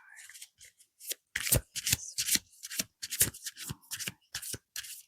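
Tarot cards being shuffled by hand nearby, in a quick series of crisp riffling bursts separated by short pauses.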